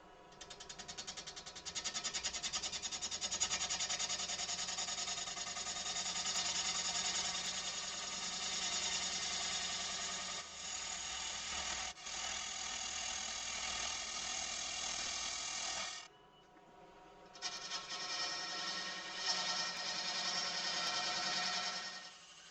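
A wood lathe spins a wet oak bowl blank at about 600 rpm while its outside is shaped, giving a steady, loud mechanical whir with a tonal hum that cuts out briefly near the end before resuming.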